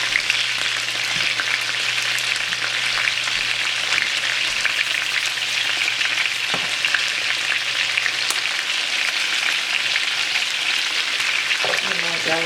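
Chicken breast and spinach seasoned with garlic powder, salt and pepper fry in a pan, a close, steady sizzle and crackle with a low hum beneath and a few clinks of stirring near the end.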